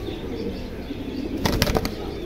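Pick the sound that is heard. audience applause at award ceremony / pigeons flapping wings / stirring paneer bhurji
pigeons flapping wings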